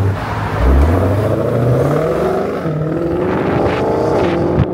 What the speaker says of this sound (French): Un gros bruit de V8